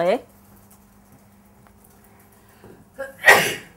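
A single loud, close sneeze bursts out near the end after a quiet stretch, with a short vocal sound at the very start, during a lecture.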